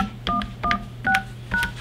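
Telephone keypad tones entering a voicemail PIN on an Obihai OBI1062 phone setup, four distinct dual-tone beeps in an even rhythm, close and clear with no talk.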